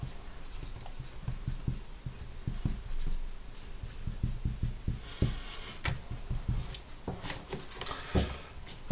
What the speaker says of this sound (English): oh, I'll have to write all this out